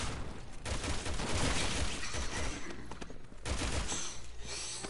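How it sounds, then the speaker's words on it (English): Rapid bursts of gunfire from the video game Resident Evil 6, a dense, loud fusillade of overlapping shots running nearly continuously with brief gaps, with no talk over it. "he's shooting me"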